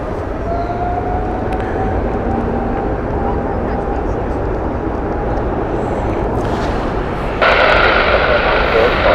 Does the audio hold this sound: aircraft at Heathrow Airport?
yes